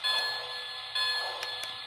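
A Polar Express toy train run by a Lion Chief remote sounds its bell, a bright metallic ringing repeated in quick strikes, close and steady over a couple of seconds.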